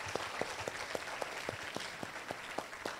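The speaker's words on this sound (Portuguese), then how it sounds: "Uma salva de palmas para todos esses meninos." An audience at a school integration event claps in a quiet, evenly paced rhythm, about ten distinct claps heard from a distance.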